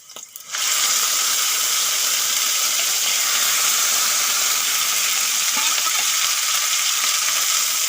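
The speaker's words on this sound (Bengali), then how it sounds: "এখন লাউ পাতাগুলো দিয়ে দেবো" Bottle gourd leaves dropped into a hot frying pan set off a sudden loud hiss that holds steady as a dense, even sizzle for several seconds, close and alone.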